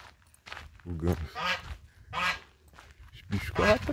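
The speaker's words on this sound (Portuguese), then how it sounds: "Eu acho que é ganso, né?" A goose honks several times along a rural village road in the Brazilian countryside, with loud nasal bursts spread across the clip among brief voices.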